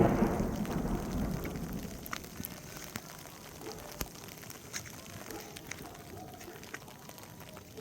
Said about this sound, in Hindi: बिजली कड़कने लगी थी,